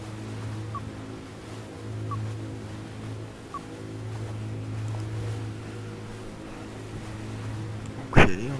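The rescue cruiser Hermann Marwede in a video game runs steadily toward Helgoland, its low engine drone humming evenly with faint water and wind underneath, and a short sharp knock near the end.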